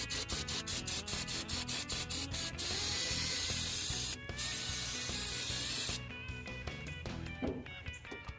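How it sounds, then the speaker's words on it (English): Cleaner sprayed from an aerosol can onto a Ford F100 brake master cylinder during a rainstorm, heard as a run of short rapid spray bursts followed by a steady hiss, up close. "And let's spray and clean."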